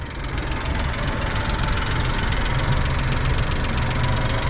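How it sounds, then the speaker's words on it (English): Suzuki Jimny 660cc three-cylinder engine idling nearby, a steady, even mechanical chatter with a slight knocking texture and constant loudness throughout. "You guys can hear the engine right now."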